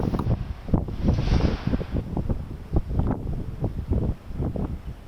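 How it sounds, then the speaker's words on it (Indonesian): Strong wind from a sandstorm in Iraq, a gusty rushing roar buffeting the microphone in uneven pulses, loud and close throughout with no voices. "badai pasir melanda beberapa bagian Irak, mengurangi jarak pandang dan menyebabkan masalah pernafasan bagi banyak orang"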